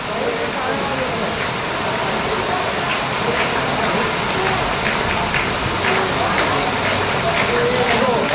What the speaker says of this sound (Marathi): पाऊस आलेला आहे